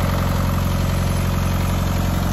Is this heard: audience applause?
no